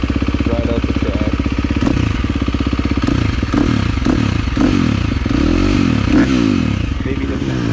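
Dirt bike riding out a motocross track at Tampa MX: a close, loud engine buzzing steadily and revving up and down, with clattering and thumps from the bike over rough ground.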